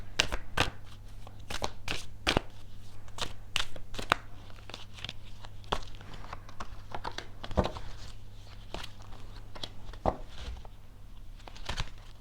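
Tarot or playing cards being shuffled by hand during a card reading, a series of quick, crisp riffles and slaps close up, uneven in rhythm, with no talking.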